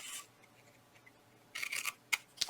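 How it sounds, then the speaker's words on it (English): Scissors snipping card stock for a handmade stocking stuffer box, a few short crisp cuts and rasps close up and quiet, separated by near silence. "Okay, so now we're going to take our scissors."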